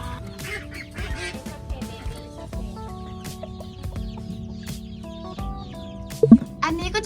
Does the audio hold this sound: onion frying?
no